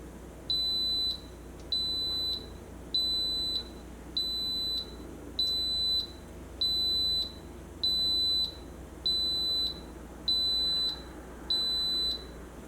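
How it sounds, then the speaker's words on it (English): An Instant Pot pressure cooker (IP-DUO80) beeps repeatedly at the end of its cook time, a steady rhythm of about ten evenly spaced high-pitched tones, loud and close. "then it will beep and it will be on keep warm mode"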